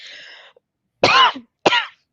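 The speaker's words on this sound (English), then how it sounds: "Sorry, I'm coughing into my mic." Two sharp, harsh coughs close to the microphone, about half a second apart, after a brief hiss; no talking.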